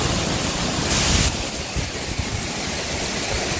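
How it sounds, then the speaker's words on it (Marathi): Waghoba waterfall in Waghoba Ghat, Palghar, in full monsoon flow, giving a steady, loud, broadband roar of rushing water that carries on without a break and swells slightly for a moment. "वाघोबा धबधबा खूपच जोराने वाहत आहे"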